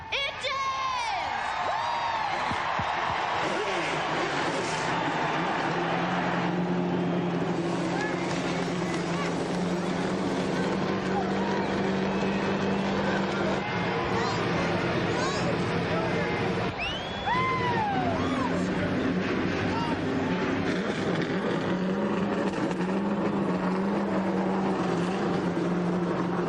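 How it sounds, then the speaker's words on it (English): Forty-three Winston Cup stock car engines fire up together before the Pepsi 400 at Daytona, making a dense, continuous roar of revving motors that stays loud throughout. Crowd noise and an announcer's voice sit underneath. "The roar you hear, 43 Winston Cup engines coming to life."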